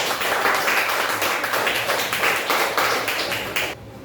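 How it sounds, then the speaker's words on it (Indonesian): A class claps for a student group after a presentation, giving a short burst of brisk, fairly close group clapping with an uneven rhythm that stops abruptly near the end. "Tepuk tangan untuk kelompok."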